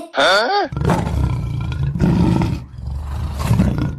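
A tiger roars loudly and close in a jungle comedy skit. The sound opens with a sharp, pitch-bending cry, then a long rumbling roar runs under continuous background noise.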